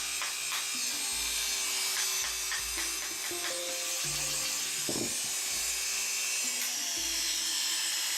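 An Oster A5 Turbo two-speed electric hair clipper, freshly fitted with a replacement case, runs with a steady close motor hum and high buzz, broken by a few brief shifts in pitch, with no talking.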